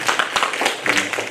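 A church congregation applauding during a Sunday worship service, a dense patter of many hands clapping steadily through the whole moment at moderate volume.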